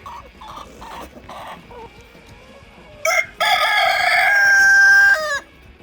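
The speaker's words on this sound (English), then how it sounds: "there's just gonna be chickens everywhere" Several short clucks sound first, then a rooster crows loudly and close, its long drawn-out call ending abruptly.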